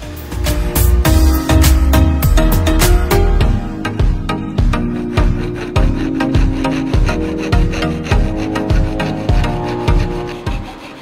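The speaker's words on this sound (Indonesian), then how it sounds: "Langsung aja kita belah menggunakan gergaji seperti ini teman-teman." A hand saw cuts lengthwise along a pipe in loud, close, rhythmic back-and-forth rasping strokes that continue steadily, with no voices over it.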